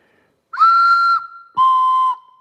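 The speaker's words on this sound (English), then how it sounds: "got one of these whistles" A steel whistle is blown twice in a blacksmith or machine-shop setting, each blast a loud, steady, shrill tone of about half a second, with a short gap between them and no talk.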